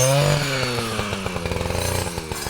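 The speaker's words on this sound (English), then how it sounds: "you can hear chainsaws being used" Chainsaws cutting wood along a wilderness trail in the Boundary Waters, engines revving and rattling with a pulsing, uneven rhythm at moderate distance, with no talk over them.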